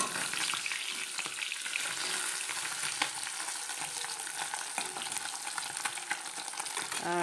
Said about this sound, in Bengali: তাই আমি পুঁটি মাছটা ভেজে নিচ্ছি।